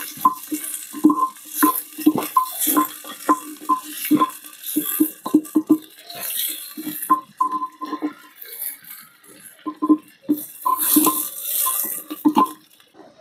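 Onions frying over a low flame in a pan for a village-style handi shrimp dish, stirred with steady, repeated scraping strokes over a soft sizzle, close and fairly loud, with no talking.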